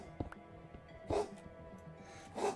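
A dog with a sore throat coughs in short, harsh bursts, three or four hacking sounds spaced irregularly at close range indoors.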